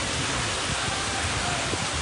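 Heavy rain driven by wind pours down steadily in Dwarka during an outdoor flag-hoisting ceremony, a dense, even wash of noise that stays loud and constant throughout.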